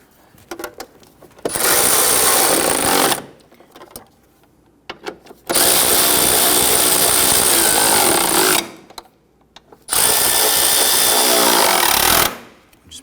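A power tool snugs down transmission mount bolts on a 2017-2020 Hyundai Elantra 2.0L, running in three loud sustained bursts of about two, three and two and a half seconds, with quiet pauses between them and no talking.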